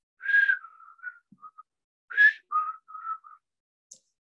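A person whistles an imitation of a greater racket-tailed drongo call, two short phrases of a sharp rising note followed by lower steady tones, clear and alone in a quiet room with a faint final chirp.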